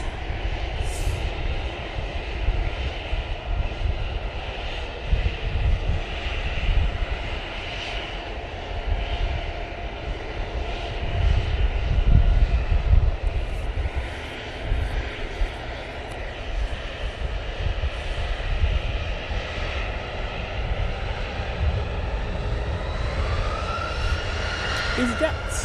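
Aircraft noise at Manchester Airport, with a steady broad engine roar throughout, swelling slightly mid-way, while people chat nearby over it.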